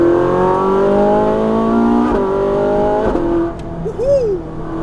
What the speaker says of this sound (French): vous faire profiter des vocalises du V8